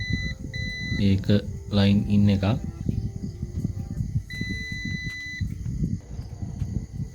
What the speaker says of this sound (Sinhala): ඔයාලට ඇහෙනවා ඇති බසර් එක නාද වෙනවා